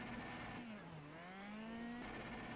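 A race car engine in the Automobilista racing game drones steadily with a continuous tone that dips briefly and then climbs back as revs drop and rise, loud and close throughout.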